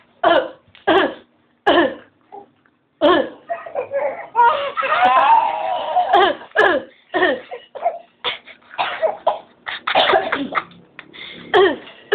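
A series of sharp coughs and throaty hacks, some in quick clusters, with a stretch of raspy, strained vocal sounds in between.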